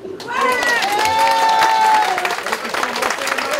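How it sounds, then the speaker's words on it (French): Wedding guests applauding after a civil ceremony officiated by a mayor, loud dense clapping from a close crowd, with a few cheers and a sustained whistle or shout riding over it, chatter mixed in. "Vous pouvez applaudir."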